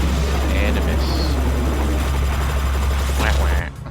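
Helicopter in the video game Front Mission 3 Reload, a steady loud rotor drone with a deep low hum throughout, cutting off near the end.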